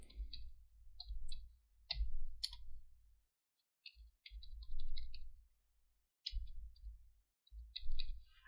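Typing on a computer keyboard in a Windows 11 command prompt, short clusters of crisp close-up key clicks separated by silent gaps, with low thumps from heavier keystrokes.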